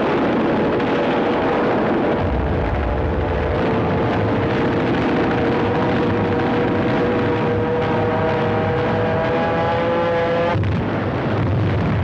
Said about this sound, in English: The U.S. planes swarmed all over the Japanese fleet.